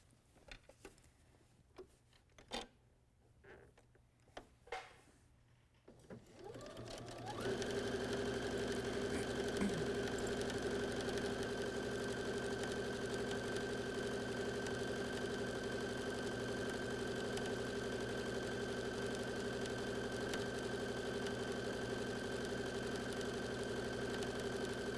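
A quilting sewing machine runs a straight top stitch along the folded edge of fabric for a small bag, humming steadily and close after a few seconds of quiet handling clicks, continuing without pause to the end.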